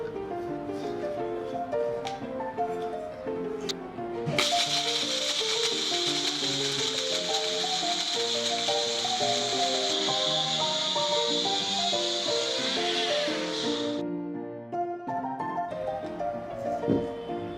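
An electric grinder whirs as it powders poppy seeds, cardamom seeds and peppercorns for thandai: a loud steady motor roar, close and alone, starting a few seconds in and cutting off near the end over light background music.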